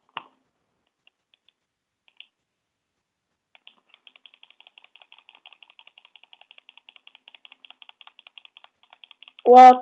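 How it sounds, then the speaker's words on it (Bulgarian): A computer mouse clicks in a rapid, steady train of sharp, light ticks throughout a Minecraft EggWars match, mostly alone in quiet, with a brief voice at the very end. "Много ми се чува мишката, знам."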